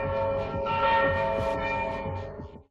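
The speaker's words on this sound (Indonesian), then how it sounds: "Suara bel dari pengeras suara menyebar." Alarm bell blaring from street loudspeakers during a lockdown in a John Wick action film, a steady, loud, ringing metallic tone holding for a few seconds before cutting off.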